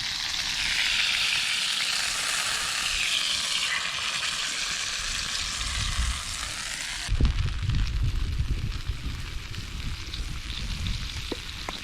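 Steak sizzles in oil over a campfire, a dense, steady crackling hiss that stays constant throughout. Low-level rustling and handling noises join partway through.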